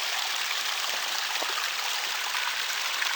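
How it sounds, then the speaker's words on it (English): A small secondary creek in the Similkameen valley flows steadily, a dense, close, continuous rush of water with no pauses or voices. "Found a cute little secondary creek coming in."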